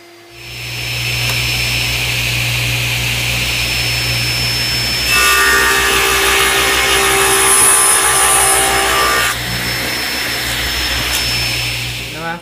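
A power saw, likely a table saw, cuts angled wood pieces for a segmented turned bowl, giving a loud, continuous whine that rises into a harsher cutting roar midway before settling back.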